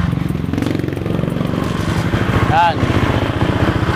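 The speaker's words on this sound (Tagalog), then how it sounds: "papaandarin na natin si Raider 150 para malaman natin kung ano yung tunog niya." A second-hand Suzuki Raider 150 motorcycle engine runs with a rapid, loud, close putter, a steady idle chug throughout, while someone speaks briefly over it.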